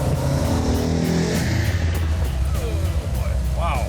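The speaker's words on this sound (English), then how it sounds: "Okay, we're going to shift down to 2nd, which is pretty fast right now" A car engine with a Comp Cams 284 cam revs hard as the driver downshifts to second gear at about 50 mph. A loud, sustained engine roar fills the cabin with a rising pitch near the end.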